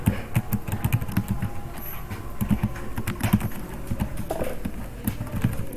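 A computer keyboard is being typed on as JavaScript code is written, with irregular bursts of close, soft key clicks separated by brief pauses.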